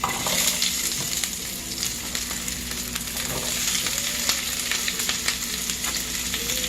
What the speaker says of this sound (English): I love garlic, so sue me. Just gonna put that in the pan there, along with my onions.